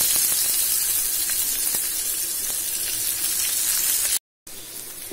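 Small shallots added to hot oil after mustard seeds splutter, a steady hissing sizzle with scattered light pops, broken by a brief silence near the end.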